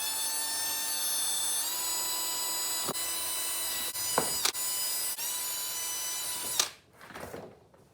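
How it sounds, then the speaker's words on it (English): A steady power-drill whine with a 3/32 bit, drilling holes in a car side skirt, runs throughout with a few sharp clicks and knocks, then cuts off abruptly near the end, leaving quieter rustling. "Got my drill set up with a 3/32 in it, so I'm just going to go ahead and get this all drilled up."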